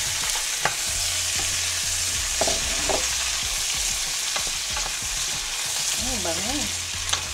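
Cucumber frying in butter in a pan, a steady sizzle with scattered stirring clicks and scrapes, close and continuous, with no talk.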